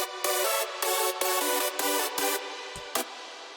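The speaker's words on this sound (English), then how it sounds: "So the chords sound like this." Layered synthesized hardstyle chords made in FL Studio 20 play as five or six loud, sustained rhythmic stabs separated by short gaps, followed by a brief quieter tail.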